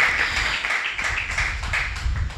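A church congregation at a Sunday service claps rhythmically together, a dense steady patter of many hands at moderate loudness, with the beat pulsing roughly three to four times a second.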